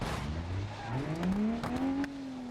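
A simulated car engine in BeamNG Drive revs loudly, its tone climbing steadily from low to high and then holding, with a few sharp clicks and knocks on top.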